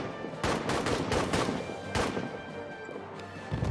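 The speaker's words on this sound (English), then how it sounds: "The thunder of the cannons." Heavy cannon and artillery fire booms in a World War trench battle game, loud bursts rolling over one another in two main waves with constant battlefield noise in between.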